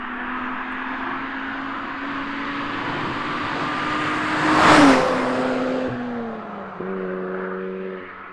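A Mazda RX-8 with its 231 bhp rotary engine revs high, the whine climbing to a loud, close peak midway, then dropping and settling into a steadier tone, with no talk.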